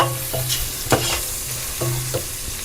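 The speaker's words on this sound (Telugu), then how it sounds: "ఇదిగోండి ఆనియన్స్ వేగుతున్నాయి కదా" Onions frying in a pan, a steady sizzle broken by a few scraping stirs and light clanks of a spoon against the pan.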